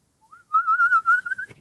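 A person whistles to mimic a slide whistle, one sustained wavering note that rises and holds for about a second before cutting off with a short breathy sound.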